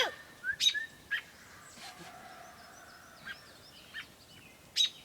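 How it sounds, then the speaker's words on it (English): A mother bird sounds scattered, faint chirps and calls in an open outdoor setting near a trampoline. Short, high notes come at irregular intervals over a quiet background. "Watch out for that mommy bird."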